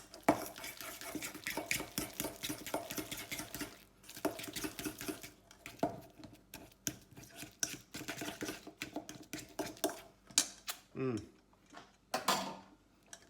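Spoon stirring a thick no-bake cookie mixture in a bowl, a string of close scraping and clinking strokes in uneven bursts, with brief pauses and a short bit of voice near the end.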